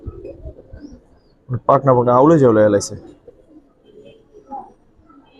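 Big-headed Giribaz pigeons in a cage give a short burst of throaty cooing, close and fairly loud, while someone talks over them.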